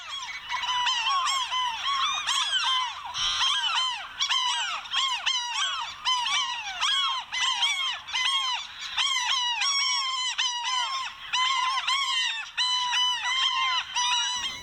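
A dense, continuous chorus of squealing, laughing calls comes from Franklin's gulls and a few ring-billed gulls on a brine-fly-covered shoreline, with many birds overlapping close by and no talking.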